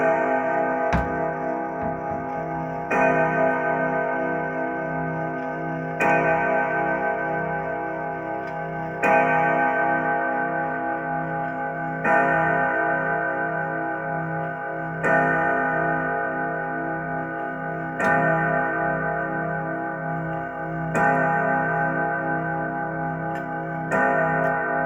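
An old grandfather clock in an abandoned setting strikes a slow series of evenly spaced, ringing chime tones, each decaying into the next, loud and close with no talk.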